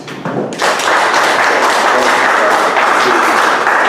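Audience at a cooperative's annual general meeting breaks into sustained applause, a dense, even wash of clapping that swells in after a brief thump and holds steady throughout.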